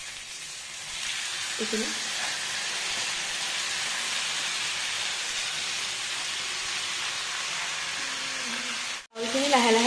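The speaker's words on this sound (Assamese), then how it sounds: "এতিয়া মায়ে চাউলখিনি ইয়াত এড কৰি দিছে, বাচমতি চাউলটো" Basmati rice hitting a hot pan for homemade pulao gives a steady, close, hissing sizzle that holds for about nine seconds, then cuts out briefly. A voice speaks faintly at moments over it.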